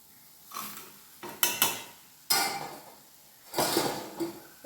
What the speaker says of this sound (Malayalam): ഇതിലോട്ട് നമുക്ക് വറുത്ത് വെച്ചിരിക്കുന്ന മീനിടാം